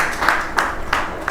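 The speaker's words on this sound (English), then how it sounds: "So a big round of applause for you, Victor." Applause for Victor from a lecture audience at a gallery, a steady patter of many hands clapping with a few sharper claps standing out, close and continuous with no talk over it.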